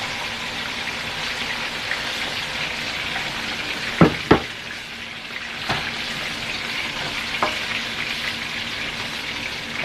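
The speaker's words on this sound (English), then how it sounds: "now we are ready to add the ground beef into the frying pan" Ground beef sizzles steadily in a frying pan while keema is being cooked, a constant soft hiss broken by a few sharp clinks of a utensil near the middle.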